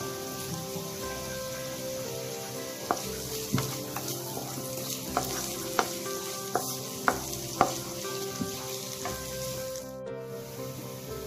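Chopped onions and shallots fry in oil for a Kerala prawn masala, giving a steady soft sizzle. Light stirring clicks and taps come through close by, and no one talks.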